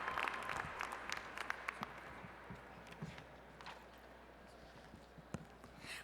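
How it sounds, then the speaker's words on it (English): At a Tulane University commencement ceremony, a large crowd applauds in a sustained round that fades gradually, with scattered louder individual claps standing out over the diffuse wash. "Let's give another round of applause"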